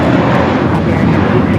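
A JetBlue Airbus A321 bound for Fort Lauderdale takes off at LAX, a loud, steady broadband jet roar filling the whole moment without a break.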